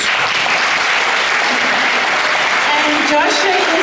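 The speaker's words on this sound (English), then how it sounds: "We can clap hands." Audience clapping steadily throughout as a 15-year-old founder is introduced at a community celebration, a dense sustained wash of applause that swells slightly near the end, with faint voices beneath it.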